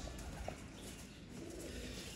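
A pigeon, an old racing bird, gives soft low coos, faint and brief, against a quiet background hiss.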